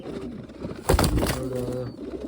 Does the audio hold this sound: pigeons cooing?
yes